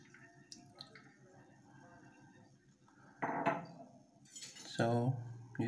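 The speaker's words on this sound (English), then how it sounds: "So you simply mix it." Garri being stirred with water in a bowl, giving a few scattered scraping and clinking sounds of spoon against the dish, close and moderately loud, with louder bursts near the end and no talk.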